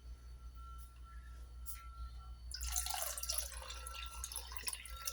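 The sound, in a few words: water poured into onion sambhar while cooking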